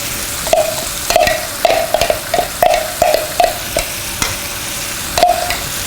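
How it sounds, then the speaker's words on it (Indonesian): Stir-frying in a hot pan for spicy Indonesian cooking, with irregular bursts of scraping and clanking spatula strokes over a low sizzle, close and fairly loud. "Kita tumis aja."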